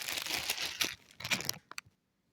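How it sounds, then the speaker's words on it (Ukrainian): A plastic bag is pulled over a seed tray of freshly sown pepper seeds in moist soil, crinkling loudly and close in two bursts, then a few short rustles before it falls silent. "І все, одягаю пакет."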